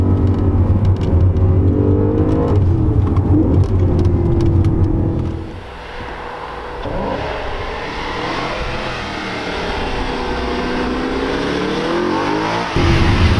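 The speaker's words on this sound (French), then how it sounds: "le moteur qui monte dans les tours" An Audi RS5 engine revs hard and loud, the exhaust roaring as it climbs, then drops back to a steady, lower drone.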